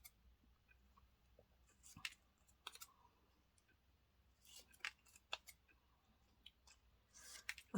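Scissors trim paper scraps for altered postcards in quiet, sparse snips and clicks spread across a calm, near-silent room.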